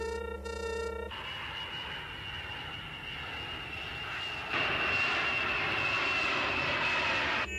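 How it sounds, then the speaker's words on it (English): Enemy fighter aircraft approach in an anime battle scene, a steady loud engine roar with a high whine that swells louder in the second half, no voices over it. "enemy fighter craft approaching"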